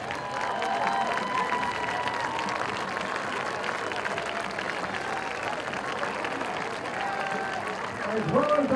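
Crowd applause and scattered cheering for veterans and first responders fill the stands at a high school varsity homecoming football game, a steady, broad wash of clapping that swells slightly at the end.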